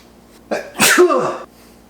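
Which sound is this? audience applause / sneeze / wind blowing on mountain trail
sneeze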